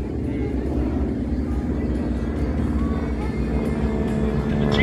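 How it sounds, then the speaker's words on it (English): Beechcraft T-34 trainer aircraft at a Texas airshow, its steady engine drone loud and continuous with low rumble and outdoor crowd noise, voices talking over it. "It's called a T-34, built by Beechcraft."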